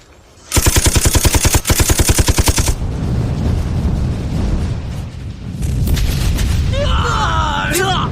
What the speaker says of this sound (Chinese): 开火，一个不留。